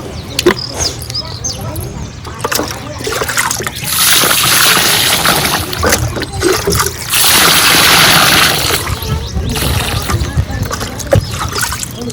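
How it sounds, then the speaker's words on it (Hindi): Mustard seeds being washed in water give off bursts of swishing, trickling and sloshing that swell loudly for a few seconds at a time, with someone talking over parts of it. "तो चलिए फटाफट सरसों धुल लेते हैं।"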